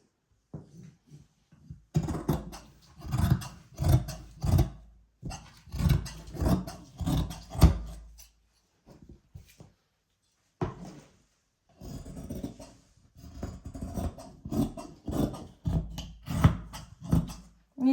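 Scissors cut through churidar fabric in rhythmic bursts of close crunching snips and rustling cloth, broken by short pauses as the material is moved and repositioned.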